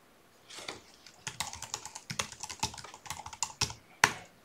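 Keystrokes on a computer keyboard, a run of crisp, close clicks at an uneven typing rhythm, ending with a sharper final key press, with no talk.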